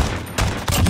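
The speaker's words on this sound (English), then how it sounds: "What was that hip fire?" Hip-fire gunshots ring out in a 2v2 Gunfight video game: a loud, dense cluster of rapid shots packed into about a second, with a short gap partway through.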